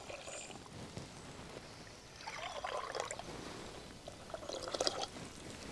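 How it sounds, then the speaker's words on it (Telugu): Tamarind extract is poured into a clay pot for rasam, a faint liquid trickling and splashing in short bursts over low, steady background noise. "ఒకటిన్నర గ్లాస్ మన చింతపండు పులుసు పోసుకున్నామండి"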